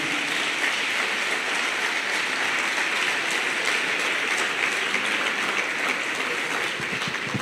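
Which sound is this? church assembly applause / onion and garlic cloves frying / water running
church assembly applause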